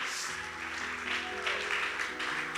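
Congregation clapping during a church service, a brief, dense burst of applause with a low sustained musical tone running underneath.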